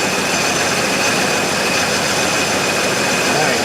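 A Ford OBS truck engine, revived after sitting 14 years, idles loud and close with a rough, choppy, uneven running note that holds steady throughout.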